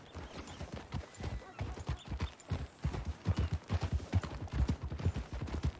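Horse hooves clip-clop in a steady riding rhythm in the Red Dead Redemption 2 game, close and fairly loud, with talk mixed over the hoofbeats.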